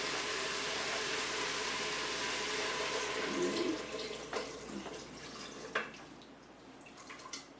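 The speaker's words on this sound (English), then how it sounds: "So we'll add the broth." Broth pours into a cooking pot in a steady liquid rush that is loudest at first, then thins into trickles and a few drips. It is close, and no one speaks.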